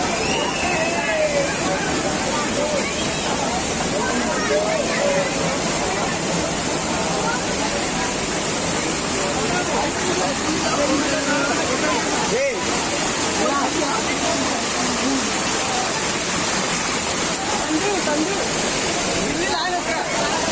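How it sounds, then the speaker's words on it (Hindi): Steady, loud roar of a small waterfall at Ghatarani near Gariyaband during the rainy season fills the whole stretch, with a crowd of voices chattering faintly underneath. "ये है हमारे छोटे वाटरफॉल"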